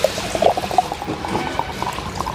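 Water from a freshly opened small coconut pours into a glass in a close, steady trickle that gurgles and splashes until the glass fills and starts overflowing.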